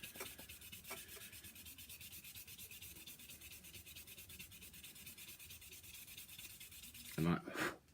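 Paint is rubbed off a model locomotive body with a steady, quiet back-and-forth scrubbing scrape, repeated at an even pace, ending in a louder brief handling clatter near the end.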